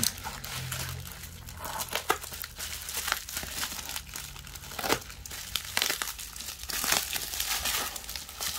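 Packaging of an Acer Aspire ES1-421 laptop battery being unboxed, with steady crinkling and tearing of wrapping, several sharper rustles and crunches, close and moderately loud, with no talking.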